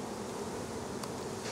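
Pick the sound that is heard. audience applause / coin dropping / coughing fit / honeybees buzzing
honeybees buzzing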